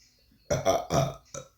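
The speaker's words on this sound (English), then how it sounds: "I feel like I'm about to belch." A single drawn-out belch rumbles in several throaty pulses, fairly close and alone.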